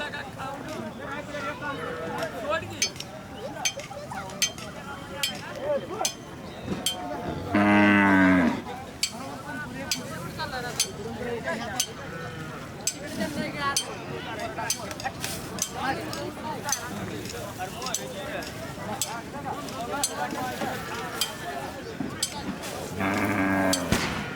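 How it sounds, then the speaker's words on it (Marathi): Khillar bulls and cattle at an agricultural fair in Maharashtra give two loud, deep lowing calls several seconds apart, rising above a busy crowd and a public-address voice that talks throughout. "एक प्रमुख आकर्षण म्हणून सध्या आज आपण हा बैल पाहणार आहोत"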